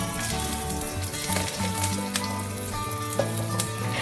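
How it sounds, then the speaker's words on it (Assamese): Chopped onion, a bay leaf and chilli frying in hot mustard oil, giving a steady close sizzle throughout with small crackles and pops; no voices. "এয়া দিছোঁ কাটি লোৱা পিঁয়াজ, এটা তেজপাত দিছোঁ আৰু এয়া দিছোঁ জলকীয়া"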